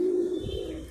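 A single low pigeon coo rumbles briefly, soft and close, with a faint hum behind it.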